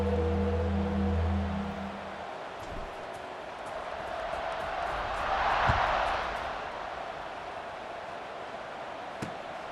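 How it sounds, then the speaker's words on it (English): Stadium crowd in an American football video game, a steady broad roar of buzzing fans before a kickoff, swelling briefly mid-way, with faint low tones early on. "this crowd is buzzing after that last score"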